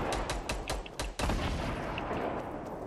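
Gunfire in the video game Fortnite, a fast burst of sharp shots followed by a heavier blast and sustained loud firing, close and dense throughout.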